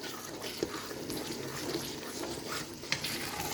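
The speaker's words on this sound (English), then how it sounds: "I normally fry it with the tomatoes so that it will bring out its own taste" Tomatoes frying in oil in a cooking pot while being stirred, a steady close sizzle with scraping stir sounds and a couple of sharp pops.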